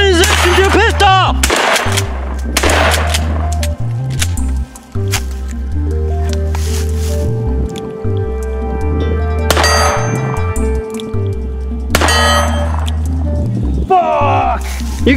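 A Mossberg 500 Persuader shotgun and then a pistol fire on steel targets outdoors, loud sharp blasts and ringing metal hits spread across the run, while someone shouts commands throughout.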